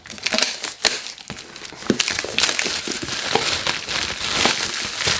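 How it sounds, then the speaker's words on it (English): A pull tab tears open the packaging of an Apple iPad mini 5, giving irregular crinkling and rustling bursts with sharp crackles, close and fairly loud, without speech. "just pull the little tab to remove it from the packaging"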